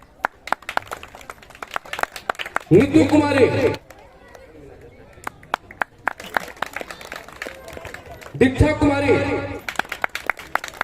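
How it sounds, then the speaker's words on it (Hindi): An audience at a cultural program for Chitragupta Puja claps in two short, loud bursts. Between them, a presenter reads out names over a microphone. "जोरदार ताली"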